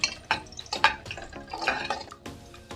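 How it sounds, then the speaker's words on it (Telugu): Four garlic cloves dropped into a pan to fry for an aloo tomato curry, with close clatter and scraping against the pan over light sizzling. "4 రెబ్బలు ఎల్లిపాయలు తీసుకొని వేసుకుంటున్నాను. కొద్దిగా ఫ్రై అయినాక కొద్దిగా ఫ్రై కానివ్వండి ఫ్రెండ్స్."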